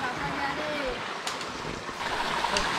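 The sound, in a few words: flowing forest stream on a trek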